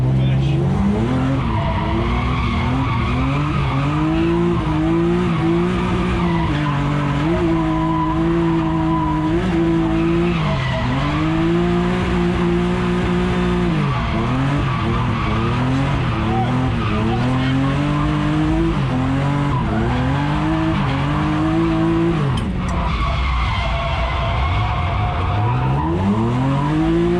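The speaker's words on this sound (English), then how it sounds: "let's have a big clutch kick into the big corner to finish" A BMW E36 M3 drifts on a track after a clutch kick, its engine howling loudly as the revs climb and dip while the tyres squeal and skid in long sustained bursts, close and continuous.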